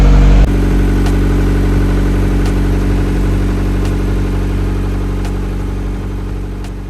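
A boat engine starts abruptly and settles into a loud, steady idle that rumbles on evenly, with faint periodic ticks riding over the drone.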